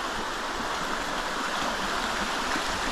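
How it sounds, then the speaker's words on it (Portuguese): Clear water of the Araguaia river flowing and rushing nearby, a steady broadband stream-like wash that stays constant and fairly loud throughout, with no speech. "Eu tava escutando a água fazer barulho, ó, isso aqui, ó."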